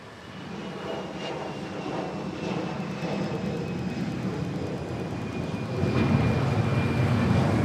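An airplane at Manila Airport gives off a loud, continuous engine roar and whine that holds steady and then swells louder toward the end, heard close up.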